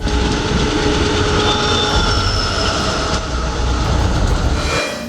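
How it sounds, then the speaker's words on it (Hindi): Metro train riding on rails, a loud steady rumble and rolling clatter with faint high squeals, continuous throughout and close, with no voices. "मुझे एक ट्रेन की सैर कराई, मेट्रो रेल"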